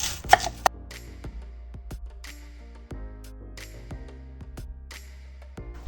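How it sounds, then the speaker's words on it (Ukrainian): A knife dices an onion on a board in quick, uneven strokes, the sharp taps close and clear with no talking. "Зараз наріжу цибулю, е, буду нарізати її кубиками"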